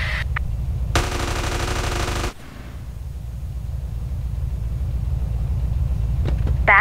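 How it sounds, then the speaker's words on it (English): A work-in-progress Aston Martin DB5 Goldfinger model fires its machine gun effect: a loud, rapid rattling burst lasting just over a second, set against a steady low mechanical hum that continues quieter afterward. "submachine guns open"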